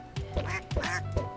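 Ducks quack in a modded Minecraft world, three loud nasal quacks evenly spaced about half a second apart, close and clear with no talk over them.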